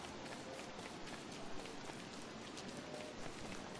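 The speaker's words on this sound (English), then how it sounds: "Why the hell did I have to get rain?" Steady rain from the survival video game Don't Starve, a continuous soft patter of drops spread evenly across the whole stretch at a low, even level with no voices.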